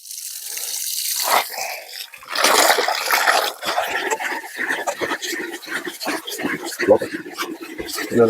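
Meat is washed and cleaned under running water, with tap flow, splashing and dripping throughout as a person talks over it.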